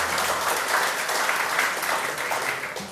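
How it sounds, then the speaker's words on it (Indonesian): Audience applause fills a debate hall, a dense, steady clapping that holds at full strength throughout with no talk over it. "Tepuk tangan untuk Pak Joshua."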